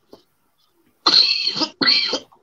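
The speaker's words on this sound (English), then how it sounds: "Control your cough" Two loud, harsh coughs close by, one after the other, from eating Carolina Reaper chillies, with a faint short sound just before them.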